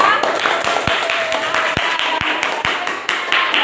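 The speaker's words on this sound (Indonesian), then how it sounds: "Tepuk tangan dulu buat poster kelompok 2" A primary school class claps for group 2's poster, with scattered, distinct individual claps over a steady patter, close by in a room, with some voices underneath.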